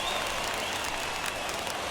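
Stadium crowd in MLB The Show 21 roaring steadily during a late-inning baseball rally, a continuous dense wash of cheering and clapping with no break.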